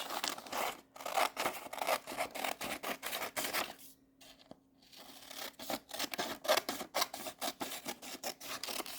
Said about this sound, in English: I'm just going to take a minute and cut these out.